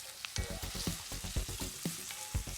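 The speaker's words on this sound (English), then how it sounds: "Yeah, so you let it saute enough." Turnip sautéing with seasoning in a pan in a country kitchen, a steady close sizzle broken by repeated stirring scrapes and taps, with no talk.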